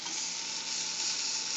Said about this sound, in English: listen to those burgers. Listen to that sizzle.